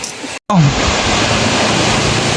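Strong river current rushing along a riverbank, a loud, steady wash of turbulent water that fills the whole clip after a brief cut near the start.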